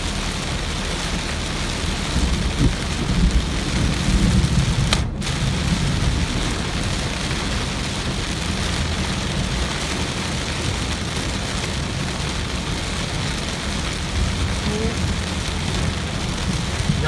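Steady rain falls in a dense, continuous hiss, with a low rumble that may be distant thunder under the downpour and a brief dropout partway through.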